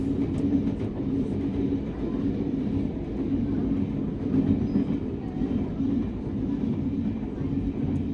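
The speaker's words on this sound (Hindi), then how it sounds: "यहाँ पे कोई तो ट्रेन जो है वो क्रॉस हो रही है" Passing train heard from inside a moving express train in fog, a steady low rumble with faint clickety-clack throughout; light talk beneath.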